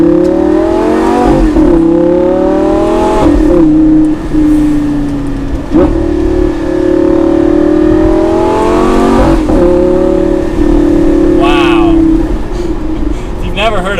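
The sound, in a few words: Lamborghini V10 engine revving while driving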